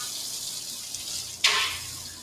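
Running tap water rinses greasy frosting out of metal piping tips, a soft steady hiss that swells into a louder gush partway through and stays close and strong to the end.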